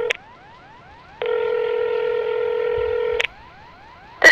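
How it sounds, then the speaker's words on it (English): Phone keypad tones from the video game Here We Stay as 911 is dialed: a quick run of beeps, then a long steady dial tone lasting about two seconds, then another tone burst. The sounds are clear and close, with no talking. "I need to call 911 right now."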